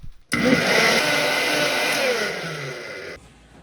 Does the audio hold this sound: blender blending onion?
yes